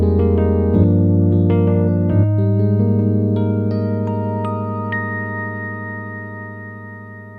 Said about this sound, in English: 76 pure electric piano,